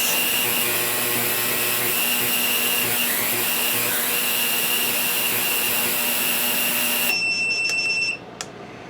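A VEVOR ultrasonic cleaner runs with a carburetor inside, giving a steady, loud electronic whine with a constant buzzing hum that cuts off abruptly near the end, leaving a brief quieter tail.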